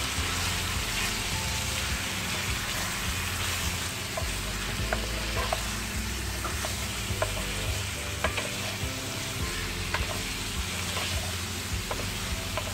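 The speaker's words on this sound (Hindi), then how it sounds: "अब इसमें डालें चॉप किए हुए 2 अनियन, प्याज। अब इसको अच्छी तरह से मिक्स करें।" Chopped onions fry with chicken in a kadai under a dense, continuous sizzle, with intermittent stirring clicks and scrapes throughout.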